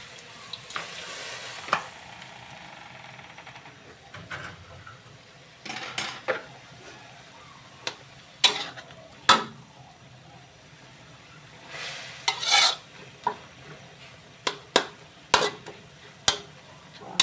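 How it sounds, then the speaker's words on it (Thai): Boiled bamboo shoots stir-fried in a pan for a chicken stir-fry with sauce, a low sizzle punctuated by repeated sharp clanks and scrapes of a metal spatula against the pan, near and alone. "จะผัดใส่หน่อไม้นะคะหน่อไม้ต้มนะคะ"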